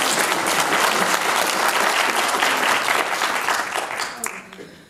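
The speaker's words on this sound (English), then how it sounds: "I'd like to pause and just give this foundation a round of applause" Sustained audience applause for a foundation at a science talk on eyewitness identification, dense steady clapping from a crowd that tapers off near the end.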